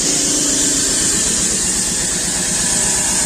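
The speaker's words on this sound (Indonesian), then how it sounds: "Jadi batu-batu ini dibentuk kembali dengan menggunakan mesin, dihaluskan kembali seperti ini." A stone-shaping machine runs continuously, reshaping and smoothing quarried rock for house building, a loud steady engine drone with a rhythmic pulsing vibration and a bright whine above, unbroken for the whole span.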